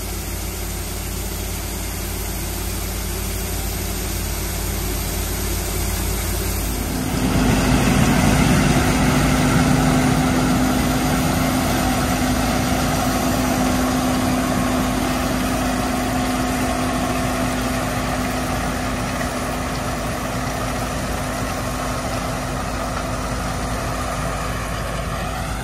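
A grain truck's engine idles steadily during a corn harvest, a constant low rumble that grows slightly louder after several seconds and holds for the rest of the stretch, with no speech.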